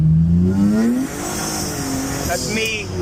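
A turbocharged V6-swapped Honda Civic accelerates at about half throttle, its engine note climbing in pitch for a second, then dropping and settling into a steadier, strained drone as it pulls through the gears, fairly close and loud.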